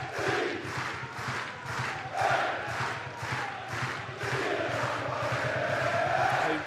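Football crowd at a stadium during a UEFA Europa League qualifier between Mjällby and FC Red Bull Salzburg, singing a loud, rhythmic chant with regular pulsing beats, carried as a wide, distant roar.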